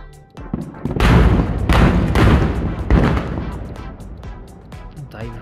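Fireworks at a summer fireworks festival boom repeatedly from a short distance away, heavy low thuds and crackling bursts rolling one after another in an outdoor night scene.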